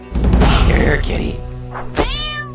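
A cat in the game South Park: The Stick of Truth gives a loud, close, drawn-out meow mixed with game noise and a voice, followed by a shorter rising mew.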